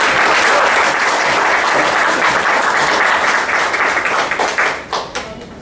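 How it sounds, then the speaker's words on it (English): Audience applause at an inauguration event: dense, steady clapping from a crowd that holds loud for about five seconds, then thins into a few scattered claps as it dies away. "I think we should round of applause for Pranav and Rahul"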